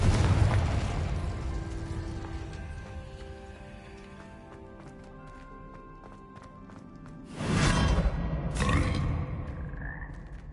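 Blasting spell explosions in Hogwarts Legacy, a loud boom at the start and two more bursts later that crash and fade, over a steady bed of game music and ambience.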